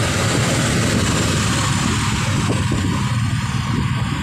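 A DAMRI bus's loud, steady engine roar with a Swoosh exhaust fills the whole stretch near Sriwijaya University, a constant exhaust rumble with no breaks and no voices.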